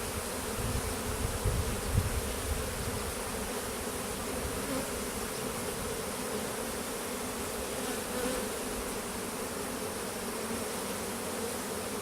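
Steady, dense buzzing of a honey bee swarm, many insects close together in a continuous drone with no pauses and no voices.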